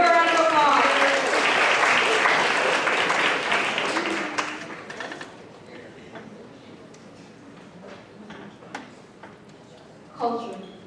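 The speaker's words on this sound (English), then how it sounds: "Give her a round of applause." At a school spoken-word poetry final, the audience gives a grade 9 poet a loud burst of applause. The clapping fades out after about five seconds into a quieter room with a few scattered sounds and a voice.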